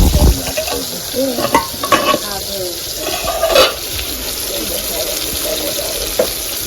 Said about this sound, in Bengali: মাছ উল্টাই দিয়েছে